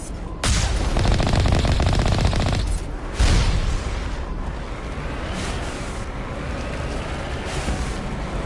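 An automated turret in Mass Effect fires sustained rapid bursts, loud and close, with a brief gap before the shooting resumes and then trails into a rumbling, reverberant aftermath.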